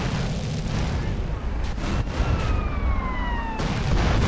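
An RPG rocket explodes in GTA San Andreas, giving a loud, sustained roaring blast. A siren whine and ongoing game noise sit over it.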